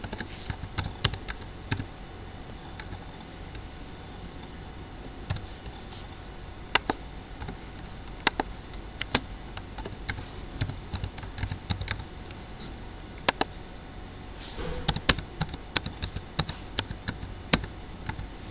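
Typing on a computer keyboard while entering new mail merge records, scattered crisp key taps in short irregular bursts with pauses between, close-miked and fairly quiet over low background hiss, no voices.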